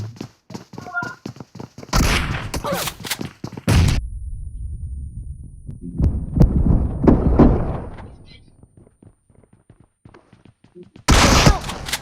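Gunfire in the BGMI battle royale game, rapid bursts of shots in several loud clusters with quieter stretches of footsteps and movement between them, and a player's voice talking in places.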